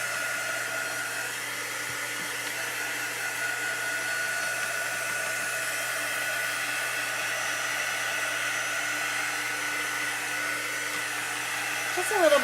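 A hair dryer blowing steadily up close for several seconds to dry a chalk transfer paste design, a constant loud whooshing hum that shifts slightly near the end.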